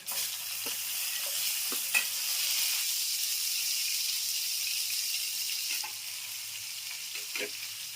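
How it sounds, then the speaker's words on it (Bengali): Tomatoes frying in a pan make a continuous close hiss and sizzle, with occasional light clicks of stirring and no talking. "টমেটোগুলো আমার একটু ভাজা ভাজা হলে নরম হয়ে গেলে তারপরে আমি এগুলো দেবো"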